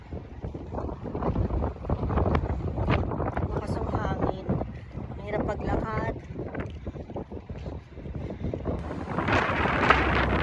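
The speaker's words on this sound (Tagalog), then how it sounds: "Ay inyong malakas na hangin ba to?" Strong wind rumbles and whooshes steadily across the microphone while voices talk underneath, rising to a louder gust near the end.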